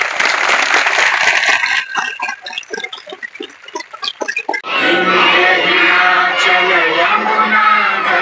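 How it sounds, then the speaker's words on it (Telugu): Schoolgirls at a municipal girls' school in Guntur applauding, dense crowd clapping that thins into scattered claps, then a louder burst of mixed crowd noise and cheering. "సంతోషంగా ఉన్న వాళ్ళందరూ క్లాప్స్ కొట్టాలి"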